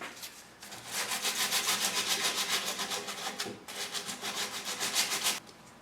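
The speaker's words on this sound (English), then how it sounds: "So now all I got to do is take some sandpaper" Sandpaper rubbed back and forth over wood on a repurposed Singer sewing machine cabinet, a rhythmic rasping in quick regular strokes, close and clear, with a brief pause midway.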